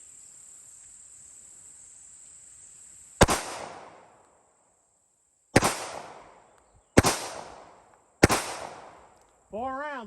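Four sharp, loud pistol shots from a full-size Glock 22 firing Winchester white box 180 grain rounds into a meat target ring out at irregular intervals outdoors, each with a short echoing decay, over a constant high insect drone.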